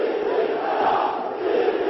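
Zakho football fans roar and chant in a packed stadium during a match against Al-Quwa Al-Jawiya, a dense sustained crowd shout with overlapping voices.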